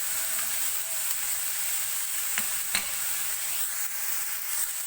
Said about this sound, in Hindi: ये मैंने चिकन शामिल कर दिया और मैं इसको थोड़ा सा फ्राई करूंगी।